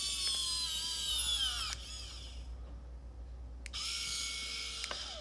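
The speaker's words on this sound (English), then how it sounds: "I'm actually running it off of my winch. So what I've done is I've got my winch set up on a wireless remote controller." High-pitched electric whine of a small RC winch worked by wireless remote, raising and lowering the snow plow on a TRX4 Blazer; two separate whirring runs with falling pitch, separated by a brief quiet gap, close and fairly faint.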